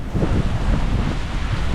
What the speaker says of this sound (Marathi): जोरात वाऱ्याचा आवाज पण येत असेल